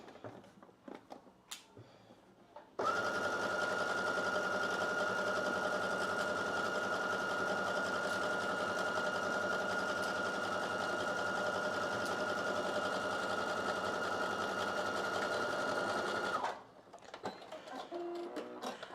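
Sewing machine stitching a slip dress seam with back stitching, a steady whirring run of about fourteen seconds, starting and stopping sharply between quiet handling sounds.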